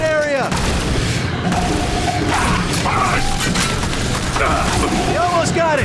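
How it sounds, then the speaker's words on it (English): A grenade explosion in The Bureau: XCOM Declassified amid continuous heavy gunfire and booming combat, loud and dense throughout, with shouted voices in the mix. "Grenade!"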